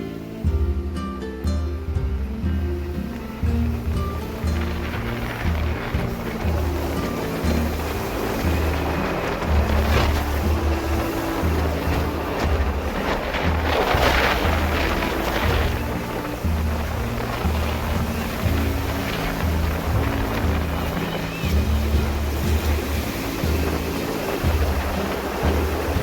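Rough monsoon sea surges along a coastal village shore in rainy weather, a loud, continuous roar of breaking waves mixed with wind buffeting the microphone, with no talking.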